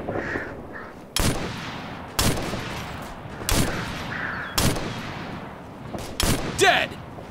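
Gunfire in the video game Operation Flashpoint: Red River: about six loud, sharp shots crack out close by at irregular intervals, each followed by a short echoing tail, with faint chatter and other battlefield noise underneath.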